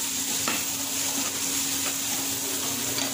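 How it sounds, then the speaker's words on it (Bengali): Onions with salt fry in a pan, producing a steady close sizzle with a faint constant hum beneath and a few soft stirring knocks. "তারপর দিয়ে পেঁয়াজটা লাল লাল করে একদম ভেজে নিতে হবে"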